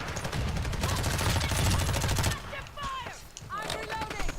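Rapid automatic gunfire in Warzone 2 rattles loudly and steadily for two seconds, then gives way to quieter scattered shots and game effects while a voice talks faintly.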